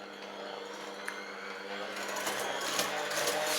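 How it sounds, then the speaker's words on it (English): Eton mess mixture being whisked to peaks, a steady mechanical whirr that grows louder and brighter partway through, close and continuous with no talk. "now we're going to whisk until we get some nice peaks."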